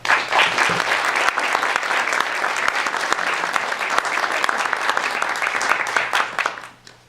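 An audience applauds a lecturer being welcomed to a talk, steady, dense clapping from a full room that fades out at the end.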